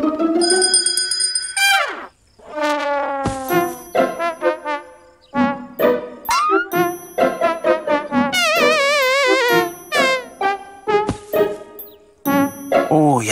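A small hand bell rings in an animated children's cartoon, with bright jingling bursts among busy, lively cartoon sound effects and voices talking throughout.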